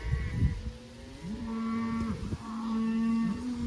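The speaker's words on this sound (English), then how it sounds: "There's a lot of cattle in here, and calves, and yearlings, and bulls." A large herd of about 450 cattle, with calves, yearlings and bulls, moos in long sustained calls, one after another, loud and close against an open outdoor background.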